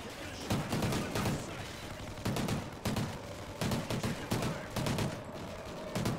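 Bursts of automatic gunfire in the Call of Duty: Ghosts video game come in several separate volleys of rapid, loud shots with short gaps between them, fairly close and clear.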